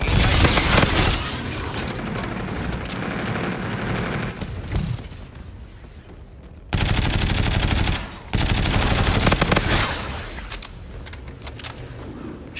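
Loud bursts of rapid gunfire from a tactical military operation, heavy sustained volleys that pause briefly and then resume, close and dominant with no talk.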